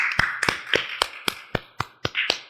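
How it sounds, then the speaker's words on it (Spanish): A podcast guest gets applause from a small group, a handful of sharp claps arriving at a steady rhythm, roughly nine distinct slaps, close and dry with no talking over them. "Un aplauso pues para Mario."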